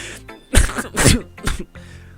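A few harsh, explosive coughs or sneeze-like bursts in quick succession, loud and close, over a faint background hum.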